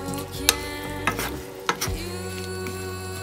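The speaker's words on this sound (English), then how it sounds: "We'll just stir that in to let it" Basil being stirred into a Thai chicken and mushroom stir-fry with green beans, broccoli and green chili, soft scraping strokes and a few sharp utensil knocks against the pan over a low sizzle, close and fairly quiet.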